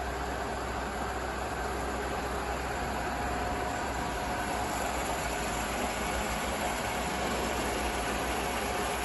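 A Hitachi Seiki 3ML-P horizontal milling machine table travels at its slow feed rate, giving a steady, continuous mechanical hum and rumble at moderate volume, even and unbroken, with no speech.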